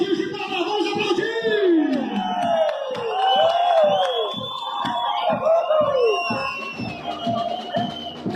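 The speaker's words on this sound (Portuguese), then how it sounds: "Essa torcida maravilhosa! Vamos aplaudir o Ji-Paraná, vamos aplaudir!" A football stadium crowd for Ji-Paraná roars and cheers continuously, with whoops and rising shouts over a dense, steady wash of noise.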